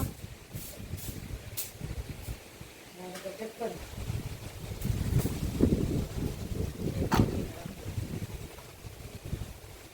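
Wind gusts rush across the microphone in uneven swells, with people talking over the blustery noise.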